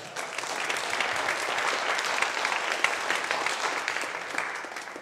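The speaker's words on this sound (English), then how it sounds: "Please give yourselves a round of applause." Sustained applause from an audience at a live comedy show in Pueblo, a steady dense clatter of many hands that holds evenly for about five seconds with no talk over it.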